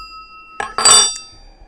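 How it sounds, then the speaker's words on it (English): A small bell atop a ceramic Clase Azul Reposado tequila decanter rings with a few bright metallic clinks up close, a faint tone lingering before and after. "ceramic vase slash decanter with its unique little bell sounding on top."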